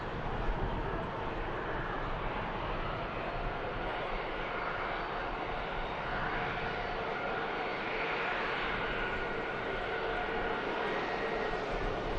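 TAP Air Portugal Embraer E190 landing on runway 05 left at Manchester Airport, a continuous, moderately distant jet engine roar that swells gently and holds steady for the whole stretch, with no speech.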